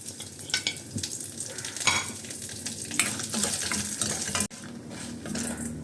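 Dry red chilies and cumin roast in a hot pan, crackling and sizzling steadily up close while a spoon scrapes and stirs in irregular strokes, with a sharp clack of metal near the end.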